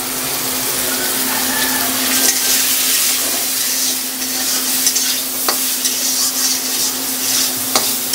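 Pumpkin greens with their stalks hit a hot pan and fry with a steady, hissing sizzle, broken by a few sharp clinks and scrapes of stirring, loud and close with no talk.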